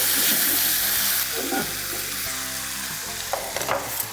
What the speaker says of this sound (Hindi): पैन ले लिया आपने, ऑयल डालेंगे।